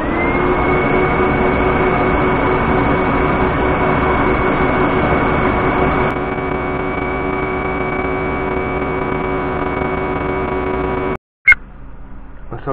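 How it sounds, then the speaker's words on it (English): Dust extractor running in a woodturning workshop, a steady loud whining drone with constant broadband noise that holds for about eleven seconds before cutting off abruptly. "Excuse the noise, dust extractor."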